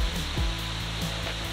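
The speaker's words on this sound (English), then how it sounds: "Waterfalls, best sounding thing ever." Steady rushing water noise from a waterfall nearby in Spearfish Canyon, a dense continuous hiss, with a few faint low thumps underneath.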